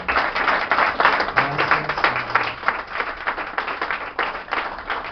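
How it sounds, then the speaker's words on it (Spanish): Church congregation at a revival service claps loudly in a sustained, fairly even burst of applause, slightly muffled, with a voice briefly speaking near the start. "Denle un fuerte aplauso al Señor esta mañana."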